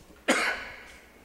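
A single sharp human cough from a lecturer with a cold, a sudden loud burst that tails off over about half a second, followed by quiet room tone.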